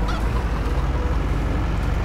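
Poultry honking and clucking continuously, close and fairly loud, in a farm in the Farming Simulator 22 video game, with busy bird calls layered over a low steady background.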